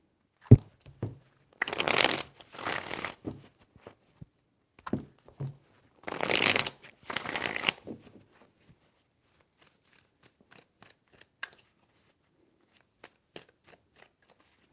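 Tarot cards are shuffled close by in two quick riffling bursts with a further burst afterward, each a dense papery flutter, followed by softer scattered taps and card handling.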